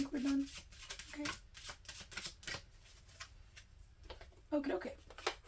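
A deck of cards is shuffled close up in repeated riffling bursts, with people talking over and between the shuffles.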